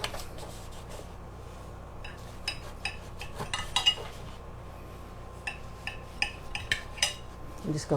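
A knife slices cornbread on a plate, with scattered sharp clinks and scrapes of metal against the dish, irregular and close, over a quiet kitchen background.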